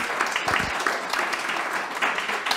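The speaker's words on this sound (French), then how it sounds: "On peut applaudir Morosus." An audience at a Nuits de la lecture children's book reading claps for a moment, a dense, fairly loud burst of applause that runs the whole stretch.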